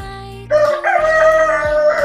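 Roosters crow loudly and up close, one long call overlapping another in strained, drawn-out cries.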